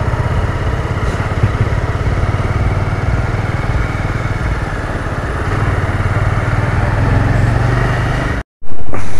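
Steady, loud motorcycle engine drone while a bike taxi carries three riders through Bengaluru streets at night, with continuous road rumble and wind, briefly cutting out near the end before resuming.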